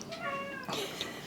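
A cat gives a single drawn-out meow, up close and fairly soft, over quiet room background.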